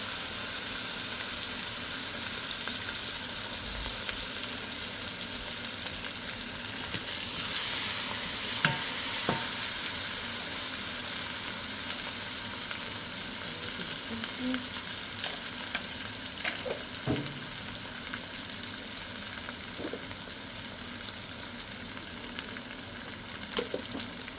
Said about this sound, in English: This is really frying real good.